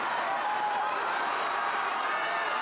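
A soccer stadium crowd at a DC Power FC v Spokane Zephyr FC match stirs as an attack builds, a steady, fairly loud wash of roaring voices with no clear breaks.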